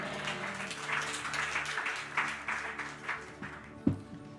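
A church congregation bursts into sustained applause, many hands clapping densely and evenly at moderate distance for several seconds, ending with one sharp knock.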